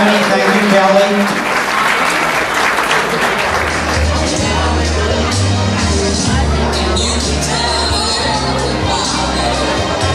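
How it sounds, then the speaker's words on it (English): A party crowd gives a big, loud round of applause at a banquet hall in Sicklerville, with steady clapping and cheering mixed with crowd chatter. Music starts up underneath partway through. "Now please give her a nice big round of applause for your words"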